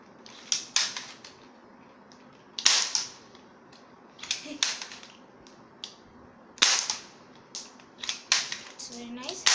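A PUBG toy gun fires bullets in sharp snapping shots, single and in quick pairs, spaced a second or two apart, with faint clicks of handling between them.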